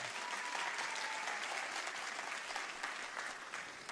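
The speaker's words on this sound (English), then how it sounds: "Let's please give all of our amazing candidates a round of applause." A debate audience applauding the candidates at a special election event, a steady wash of many hands clapping at a distance that holds even throughout and eases slightly toward the end.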